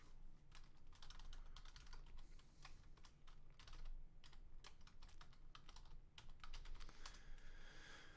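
Keys clatter on a computer keyboard as a Linux command is entered, a quick, uneven run of close, light clicks with brief pauses between bursts and no speech.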